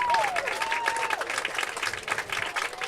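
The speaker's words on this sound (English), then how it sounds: "A well-deserved applause from the crowd for that rally." A crowd breaks into sustained applause after a rally in a pro men's doubles match, dense clapping filling the whole stretch at steady volume, with a faint whistle-like tone sliding through early on.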